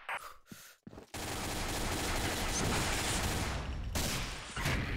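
Video game gunfire crackles in a dense, sustained burst of rapid shots after a few brief sharp sounds, loud and continuous for several seconds, without talk.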